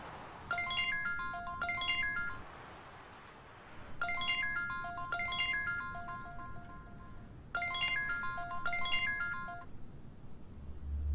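A mobile phone ringtone plays a bright electronic melody in three repeated bursts separated by short pauses, loud and close inside a home.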